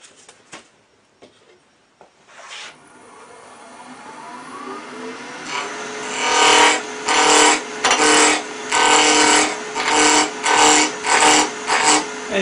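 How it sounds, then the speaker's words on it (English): A wood lathe spins up, then a spindle roughing gouge cuts Yucatan rosewood for an awl handle in a rhythmic series of loud, close, scraping passes, each lasting about a second, over the steady motor drone. "We're going to rough this out with a spindle roughing gouge"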